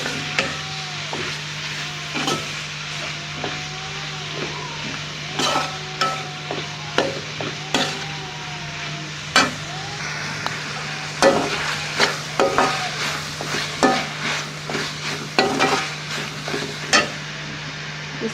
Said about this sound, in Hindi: अब हम इसमें ये सारी सब्जियां डाल देंगे। और 1 से 2 मिनट अच्छी तरह इसे मिक्स कर लेंगे।